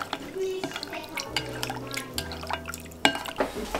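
Lukewarm water poured over food with honey while preparing a traditional Québécois Christmas feast, giving a close, steady liquid trickle with scattered drips and a couple of louder splashes near the end.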